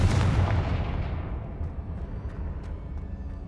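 Confringo fire spell exploding in Hogwarts Legacy on PS5, a loud booming blast that decays into a long rumbling tail with faint scattered crackles.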